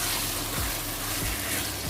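Minced meat (keema) fries steadily in a pan, a continuous close sizzle with soft stirring scrapes, loud and without talk throughout.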